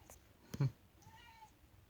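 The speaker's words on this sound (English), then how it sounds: "Here comes my cat." A house cat gives a short meow, a brief close call of under a second, alone in a quiet room.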